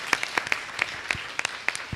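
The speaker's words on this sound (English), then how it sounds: "Let's give it a round of applause for Jemiah." Applause from a school board meeting audience at a middle school, sustained scattered clapping with sharp individual claps standing out over two seconds, moderately near and steady.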